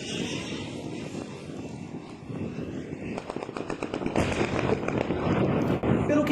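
A jet-powered drone flies overhead in a wartime city, its engine a rough, rising roar that grows louder and denser over the last seconds, with some background noise mixed in.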